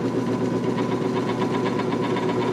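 A drill press boring pilot holes at punch marks in a project enclosure runs as a steady, loud motor drone with a rhythmic pulsing hum, continuous for the whole stretch with no talk.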